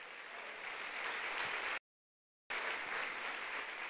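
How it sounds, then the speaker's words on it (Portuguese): Steady, dense clapping from a church congregation, loud and continuous, broken by a brief silent gap before the applause resumes. "E vamos aplaudir bem forte ao Rei da Glória."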